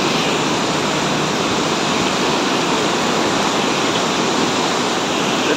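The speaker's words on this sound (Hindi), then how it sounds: "ये है अरुणाचल प्रदेश पासीघाट ईस्ट सियांग का सियांग नदी है।" The flooded Siang river at Pasighat in East Siang, Arunachal Pradesh, rushes past in a loud, steady roar of churning water that holds constant throughout, with no voices.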